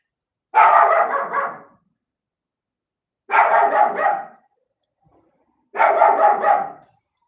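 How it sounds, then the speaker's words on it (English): A dog barks from behind a closed door in three separate short bursts, each a quick cluster of sharp barks, spaced a few seconds apart with silence between. "the neighbor outside has a kid that's playing with him through the door to make him bark"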